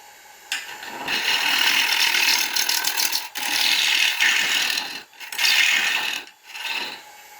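A woodturning gouge cuts into a dry, spalted ash bowl spinning on a lathe, making loud, rough scraping and chattering passes in three long bursts with short pauses between them, with no voices.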